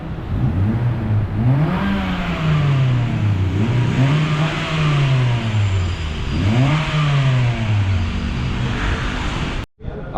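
Honda Jazz automatic with an aftermarket muffler, its engine revving up and easing back in several smooth swells, loud and close, ending in a brief abrupt dropout.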